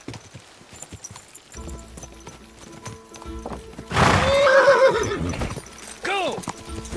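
In the video game Kingdom Come Deliverance 2, horses clip-clop along and then break into loud galloping hoofbeats, with sharp neighs rising over them and voices talking throughout.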